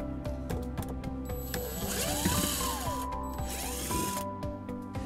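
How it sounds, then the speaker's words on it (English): Two screws are backed out of the seat handle cover on a 2012 Honda CR-V with a Phillips screwdriver, giving close, repeated ratcheting and mechanical turning sounds in two bursts over steady low background noise. "that exposes two screws that we'll remove using a Phillips screwdriver"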